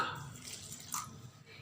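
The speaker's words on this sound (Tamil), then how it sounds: "இப்போ இதில் கொஞ்சமாக தண்ணி சேர்த்துக்கலாம்." A little water is poured into lentil chutney ingredients with tamarind and salt, ready for grinding in a mixer, making a brief, soft splashing trickle close by.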